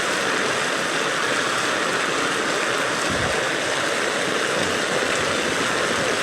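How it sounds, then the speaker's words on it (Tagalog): Rain falls in a steady, dense hiss outside at the gate of a rented home during flooding, loud and continuous with no voices. "Ano yung ulan ba?"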